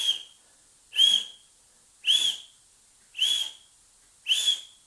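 A voice imitates small wheezing whistles on exhalation, linked to acute mountain sickness: five evenly spaced, short high-pitched whistling breaths about one second apart, close and clear against silence.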